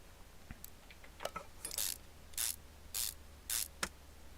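Bolts being screwed by a power tool in a car mechanic game: several short, evenly spaced whirring bursts, each under a second, fairly faint and close, with small clicks between them and no talk.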